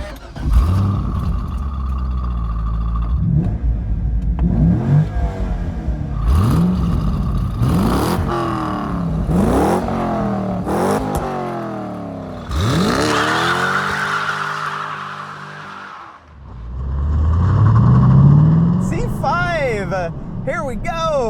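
A C5-generation Chevrolet Corvette with a manual stick shift revs loudly on the move, its engine note climbing and dropping in repeated sweeps through the gears, ending with a strong rising pull.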